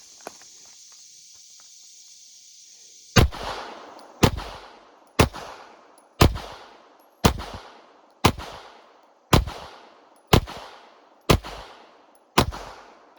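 A Ruger Max-9 pistol fires CCI-primed ammunition outdoors, ten sharp, loud shots spaced about a second apart, each with a short trailing echo, after a few seconds of quiet hiss.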